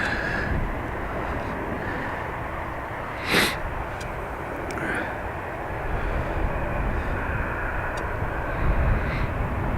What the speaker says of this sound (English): A330 inbound, I see it.